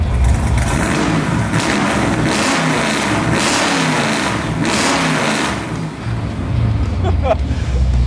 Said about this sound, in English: We're driving in this awesome 1968 Camaro restmod Pro Touring car. 498 cubic inch motor with a 5-speed Tremec,